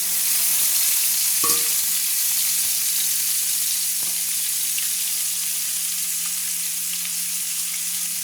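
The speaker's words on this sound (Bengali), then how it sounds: "তেলটা আমার গরম হয়ে গেছে, তো আমি আলুটা তুলে দিচ্ছি" Potatoes frying in hot oil, a steady loud close sizzle with a constant hiss that barely changes throughout, with only a few faint knocks and no talking.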